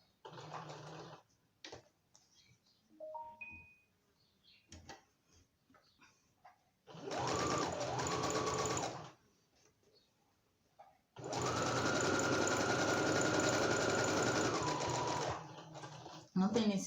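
Sewing machine stitching through a plastic notebook cover, with short bursts early on and then two long, steady whirring runs at a constant speed, close and clear, with someone talking in the gaps between runs.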